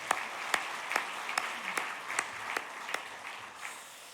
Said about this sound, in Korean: 박수 한번 보내겠습니다